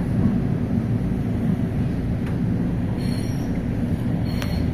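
Steady low rumbling roar of an LRT light rail train in Manila, near Baclaran, rolling along, continuous and fairly loud with faint squeals of wheels on track.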